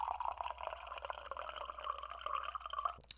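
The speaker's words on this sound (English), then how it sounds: "So rather than have to pick up this monstrosity the whole time, I'm going to pour it into a glass." Cherry peach tea poured from a large can into a glass, a steady soft liquid stream with gurgling and splashing for about three seconds before it stops, faint and close.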